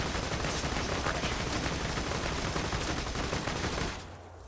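Enemy gunfire in Borderlands 2 crackles in a dense, unbroken barrage of rapid shots, steady and loud for about four seconds before cutting off abruptly near the end.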